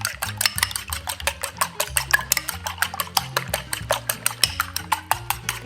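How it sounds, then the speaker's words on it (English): A spoon stirs egg into a meatball mixture in a bowl, producing a rapid, steady series of close clinks and scrapes. "So just go ahead and mix it up."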